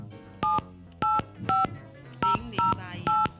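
A telephone number dialed on a touch-tone phone, six crisp, loud DTMF beeps in quick, slightly uneven succession, with low background noise between them and no voices.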